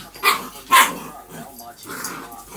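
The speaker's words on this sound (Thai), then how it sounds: "ฉันบอกให้เลิกเห่า" A dog gives two sharp, loud barks close by early on, with fainter yips afterward, while a person talks over and between them.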